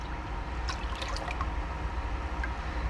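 Liquid dye bath poured into a vessel, with a steady low rushing flow and a few faint drips and trickles on top, no voices.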